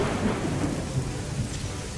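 Rain falls in the video game Orion Prelude, a steady, dense hiss of downpour with a low rumbling undertone that carries evenly throughout, with no voices.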